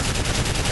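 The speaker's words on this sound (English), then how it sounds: "Just laid out suppressing fire." Suppressing gunfire in Call of Duty: Modern Warfare 3, heard as a short, loud, dense burst of rapid automatic shots with no voices.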